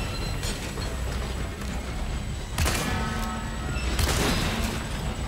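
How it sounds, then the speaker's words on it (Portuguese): Heavy Magnum revolver shots in Resident Evil 4 Remake, two loud booming blasts a little over a second apart over a dense, rumbling game background. "não adianta dar tiro de magno nessa desgraça"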